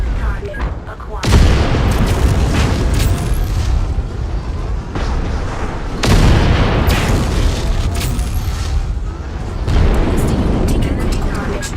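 Loud, booming explosions of destroyed enemy mechs in the game Mechwarrior 5: Mercenaries, two long rumbling blasts layered with gunfire and crackling debris, with a voice speaking over the din.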